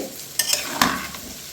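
Chicken and pumpkin being stirred in a hot pan, with a steady sizzle of frying and a few sharp scraping strokes of the spoon close up, no voices.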